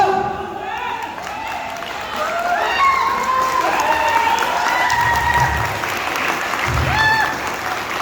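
Audience applause at a mega seminar in Pathankot, a steady broad crowd clapping throughout, with a speaker's voice and some cheering over it.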